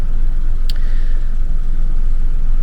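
A diesel car engine idling at close range, a steady low rumble with an even tick that holds unchanged throughout, plus one brief sharp click partway through.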